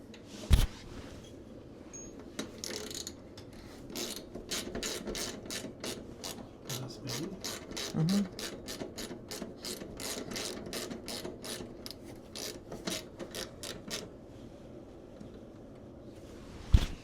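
A ratchet clicks in quick repeated bursts while loosening a 10 mm linkage rod on a 1991 Polaris Trail Boss 250 ATV, close and fairly quiet, with short pauses between strokes.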